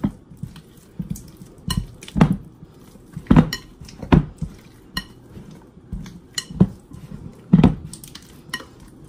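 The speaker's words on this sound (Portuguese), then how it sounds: "Aí você bate, bate até misturar" A polvilho biscuit batter is beaten in a bowl, with a utensil knocking and clinking against the sides in uneven, repeated strokes close by, loud and with no talk.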